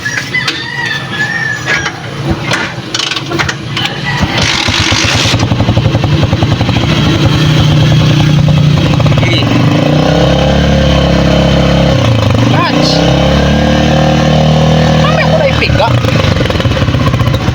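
A motorcycle engine starts and revs as a rider works the clutch, a rough mid-pitched drone that swells and dips close by, with voices talking over it.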